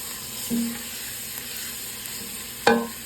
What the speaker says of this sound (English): And stir it up a little bit.